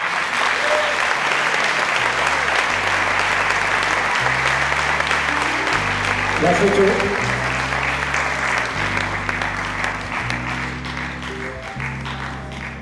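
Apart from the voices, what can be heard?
audience applause at an award ceremony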